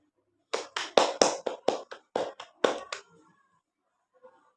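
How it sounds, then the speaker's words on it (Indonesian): Classmates in a micro-teaching classroom clap for a presenting group: a short burst of about ten distinct, fairly close hand claps from a small number of people, ending abruptly and followed by quiet. "kita beri tepuk tangan untuk kelompok 2"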